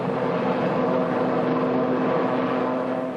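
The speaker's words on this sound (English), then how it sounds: "a Lynx helicopter from 656 Squadron Army Air Corps at Netheravon" An Army Air Corps Lynx helicopter from 656 Squadron hovers over Hammerwood Park in 1988, its rotors and turbine making a steady, loud droning whine with a sustained hum, heard alone without voices.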